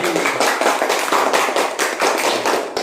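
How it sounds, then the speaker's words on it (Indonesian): A classroom audience applauds a group's presentation during a lesson, giving dense, steady clapping from many hands that holds at an even level for the whole stretch, with no voices on top. "Tepuk tangan dulu untuk kelompok matahari"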